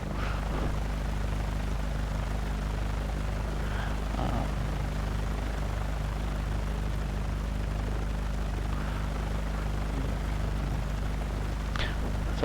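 A Cessna 182 Katmai with a 300-horsepower Lycoming engine and 29-inch Tundra tires drones steadily in a flight simulator. Its even, constant engine hum continues throughout without change.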